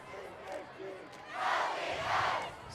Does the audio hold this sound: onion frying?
no